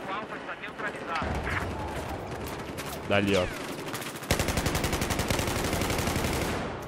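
Battlefield 1 video game combat with heavy automatic gunfire, first steady rattling bursts, then a quick rapid string of evenly spaced shots toward the end, loud and close, with someone speaking briefly over it.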